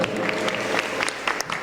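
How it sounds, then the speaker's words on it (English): Brief burst of audience applause after a film screening and Q&A, dense and steady, with faint voices mixed in. "How about a standing ovation? How about a round of applause?"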